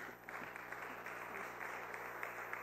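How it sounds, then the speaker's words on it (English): Church audience applause after live music at a Lutheran service, a steady mass of hand claps heard faintly and from a distance, with no break across the whole stretch. "applause for that"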